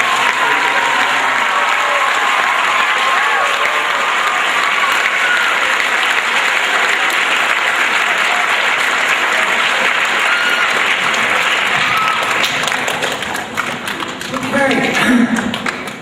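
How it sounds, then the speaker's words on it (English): Sustained, dense applause from a large school assembly honoring state champion soccer teams, loud and steady for about thirteen seconds before thinning out near the end. "one more huge round of applause for both these teams"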